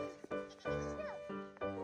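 Goats bleat several times nearby in quick succession, wavering nasal calls close to the listener.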